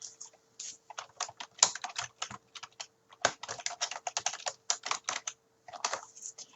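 A file name is typed on a computer keyboard in quick irregular bursts of crisp clicking keystrokes, close and clear, with a short pause midway and nobody speaking.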